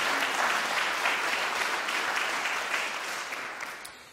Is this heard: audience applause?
yes